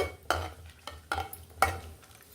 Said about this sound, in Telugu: ఎండుమిర్చి కూడా కొంచెం ఫ్రై అయ్యింది